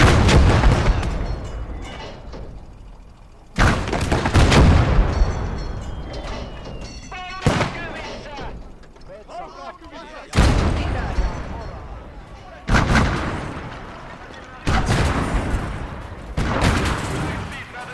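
A 76mm gun fires from a concrete emplacement in a video game. Six or so heavy, booming shots land a few seconds apart, each with a sharp crack and a long rumbling decay, loud and close.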